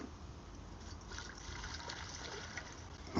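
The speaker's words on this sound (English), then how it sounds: "Get some water in this pan because we gotta boil our pasta." Water running into a pan to boil pasta beside a wood-burning stove, a steady faint trickling and gushing stream that continues evenly, with a brief clunk at the end.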